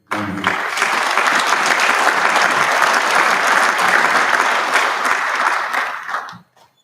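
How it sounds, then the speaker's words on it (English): Audience at a law enforcement officer hall of fame event breaks into sustained, loud applause from a large crowd, a dense wash of clapping lasting about six seconds before stopping abruptly. "another round of applause for Megan and Adam for what they've done here."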